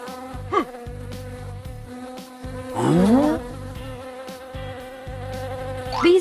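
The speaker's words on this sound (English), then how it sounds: "Bees are buzzing. They are gathering honey." Buzzing bees drone over a bouncy Masha and the Bear cartoon music track, with a few quick sliding whistle-like sounds popping up along the way.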